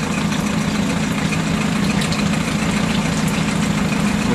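An engine idles slow and rough, a steady low droning rumble with an uneven, shaky texture throughout.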